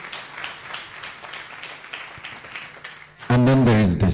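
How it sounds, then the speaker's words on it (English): Symposium audience applause on data analytics and AI, a moderate, fairly distant patter of many hands clapping that continues steadily before a voice starts speaking loudly over the end. "Big applause, ladies and gentlemen."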